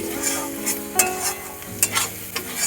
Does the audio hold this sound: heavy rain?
no